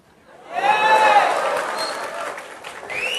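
Audience clapping and cheering at a motivational talk for CA students swells quickly and then fades, with voices and the crowd loud and close.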